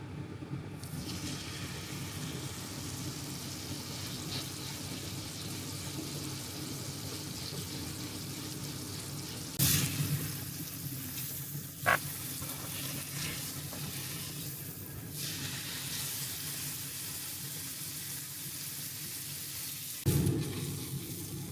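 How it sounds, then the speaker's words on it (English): An Aldi Wagyu sirloin steak brushed with garlic-infused olive oil sizzles in a hot pan, a constant close hiss that holds steady the whole time, broken by a few sharp clatters as it is moved, with no voices. "Right, come and cook a steak with me."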